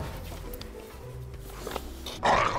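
A dog growls in low, drawn-out rumbles inside a house built of cardboard, ending in a sudden louder burst of noise.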